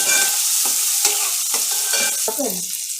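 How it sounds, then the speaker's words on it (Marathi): Soaked lentils fry with onion in hot oil, a loud close sizzle broken by several spatula scrapes and stirs against the pan. "आता मी याच्या तेलात टाकते कांद्यावर परतून घेते"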